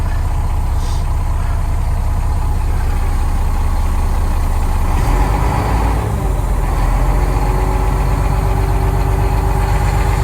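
An International Paystar concrete mixer truck's Cummins-like diesel engine idles nearby with a loud, steady low rumble and knock. The idle shifts briefly around the middle, and no one speaks.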